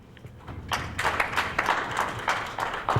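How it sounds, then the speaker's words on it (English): An audience at a regional forced migration conference claps for a speaker on climate, a moderately loud round of hand clapping that starts up and continues in uneven waves. "that hand clap is yours and they kindly receive it"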